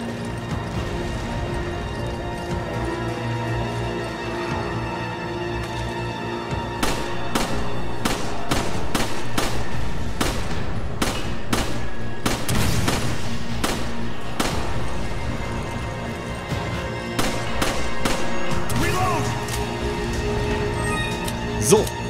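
Gunfire from the video game Resident Evil 5, a string of sharp, loud shots and impacts at irregular intervals over a steady game soundtrack, with someone talking throughout.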